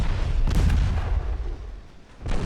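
Deep booming launches of torpedoes from a warship in a naval video game, a heavy blast early on and another toward the end over a rumbling low background.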